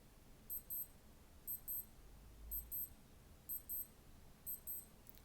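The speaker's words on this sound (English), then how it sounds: "While you're on the alarm mode, all you have to do is press and hold the bottom right button, and you will be able to hear your alarm." A digital watch alarm under test gives thin, high, faint double beeps, five pairs repeating at a steady pace over quiet room tone.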